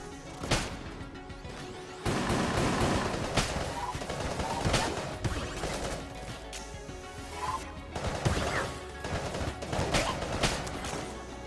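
Rapid carbine gunfire in the video game Enter the Gungeon, dense bursts of shots and impact crashes over busy game sound, with a few brief gaps.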